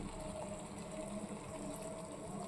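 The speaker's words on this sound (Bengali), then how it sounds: "জল ছেড়ে দিচ্ছে।" Water poured into a pan of cabbage cooking with oregano and soy sauce, a soft steady hiss and gush, faint and continuous throughout.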